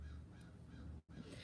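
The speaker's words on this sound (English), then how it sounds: "Hear the crows in the background?" Crows caw in the distance, faint and far off, against a quiet low hum with a brief dropout near the end.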